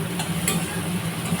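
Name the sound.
onion frying in a pan, stirred with a spatula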